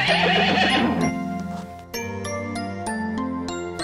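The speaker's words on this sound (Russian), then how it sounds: "Лошадь." A horse gives one loud, close whinny, then a series of steady, rhythmic clip-clop hoofbeats with light jingling. No voices are heard. It is one of a series of farm animal sounds.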